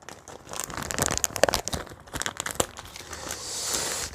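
Packaging of a Team Corally Kronos RC car is unwrapped up close, with bursts of crinkling and rustling plastic and paper and occasional tearing, fairly quiet throughout.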